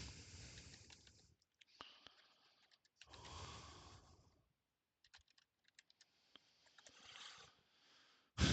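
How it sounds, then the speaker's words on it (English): Quiet clicking of a computer keyboard as someone types, short bursts of keystrokes separated by pauses, fairly close and soft with no talking. "So I'm gonna type it in."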